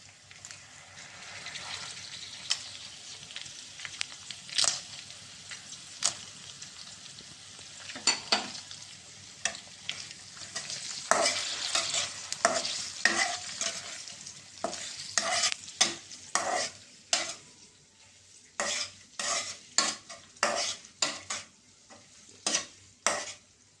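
Whole spices, bay leaf, cinnamon, clove and cardamom, frying in oil for a chicken curry, with a steady low sizzle broken by repeated sharp scraping and stirring strokes of a utensil against the pan, growing busier toward the end.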